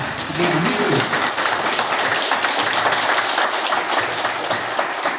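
A church congregation applauds loudly and steadily for several seconds, dense clapping filling the hall with a brief low voice at the start.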